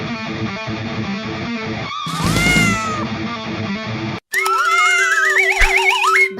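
A cartoon cat lets out loud, exaggerated meows and caterwauling yowls, one stretched cry midway and a warbling, wavering yowl at the end, amid busy cartoon sound effects and music.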